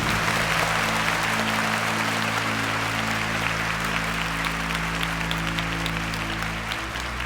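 Sustained applause from a large crowd, dense and steady clapping for several seconds without a break.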